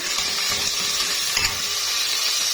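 A spoonful of garlic sizzles and crackles in a pot as the sauce for one-pot koshari begins, a steady, close frying hiss with a brief stirring scrape partway through.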